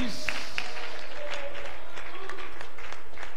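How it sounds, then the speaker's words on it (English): A church congregation claps in praise during a service, a scattered run of hand claps that carries through the whole stretch, with voices and tones sounding over it. "Clap your hands and give God glory and praise."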